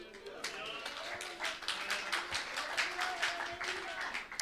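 A church congregation at an annual retreat in Bonaire claps steadily and continuously, a dense patter of hands in a large room, with faint voices underneath.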